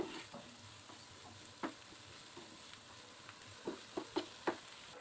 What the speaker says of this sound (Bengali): এবার পরিমাণ মতো লবণ দিয়ে এগুলো ভেজে নেব।